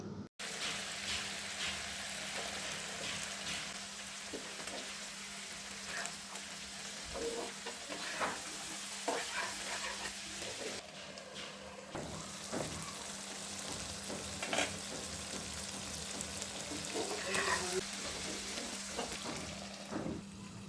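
Baim fish and eggplant frying in a pan, a steady close sizzle with intermittent scraping and stirring clicks running throughout, no voices.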